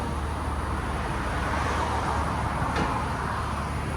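2024 Nissan Z with a 3.0L twin-turbo V6 and AWE Track cat-back exhaust idling, a low steady engine rumble with a broadband hiss, even and continuous throughout.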